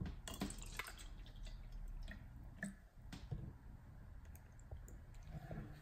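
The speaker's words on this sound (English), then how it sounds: "Let's pour some water in." Natural spring water from Maine, bottled as Poland Spring Origin, poured into a cup. It sounds like a steady liquid splash with scattered drip-like ticks, close and fairly quiet, with no voices.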